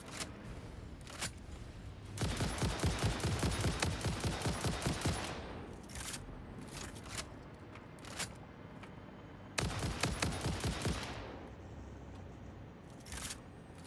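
Enemy gunfire in the video game Satisfactory: dense rapid bursts of automatic shots between about 2 and 7 seconds, then scattered single cracks and a second loud burst near 10 seconds, with no talking.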